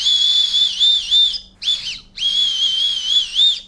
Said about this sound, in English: Sternum strap, ooh, we got a little whistle.